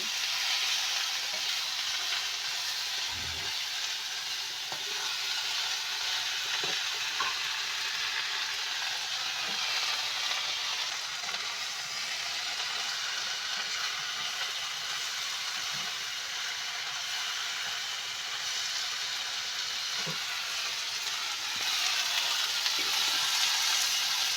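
Tela kochu leaves and potato fry in a pan with a continuous, even sizzle and hiss, joined by a few faint knocks and stirring taps, steady and close throughout.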